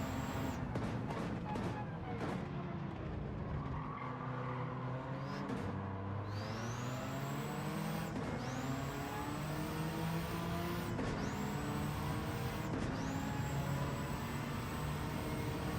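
A road-going Subaru Impreza engine in Gran Turismo 7 revs and shifts through gears, its tone rising and dropping repeatedly with steady, close, loud racing noise throughout.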